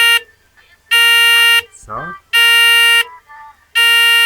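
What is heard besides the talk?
burglar alarm siren sounding after door opened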